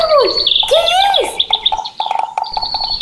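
A mockingbird (cenzontle) sings close and loud, with sweeping whistled notes followed by quick rapid chirps and trills in varied phrases.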